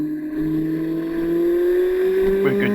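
A single car passes close on a road near Glencoe, its engine note rising steadily as it draws near, a loud continuous drone with no talking over it.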